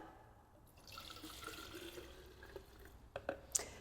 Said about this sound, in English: I'm going to pour it into the Polar Blaster